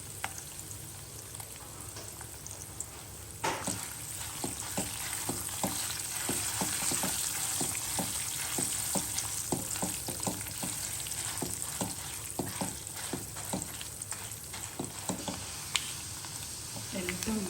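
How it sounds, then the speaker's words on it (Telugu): Spices with curry leaves, garlic and dried red chillies crackle and sizzle in hot oil without a break, with frequent small pops and light stirring clicks close up. "ఇవి మంచిగా వేగాలి దోరగా వేగితే బాగుంటుంది"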